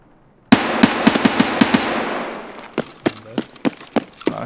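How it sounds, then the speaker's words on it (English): Gunfire in the video game Escape from Tarkov on the Interchange map: a rapid automatic burst of sharp, close shots, then a slower string of single shots trailing off against a quiet background. "Are you seriously just shooting me?"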